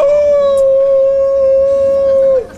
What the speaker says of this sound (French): Tu as pourtant entendu comme moi le loup?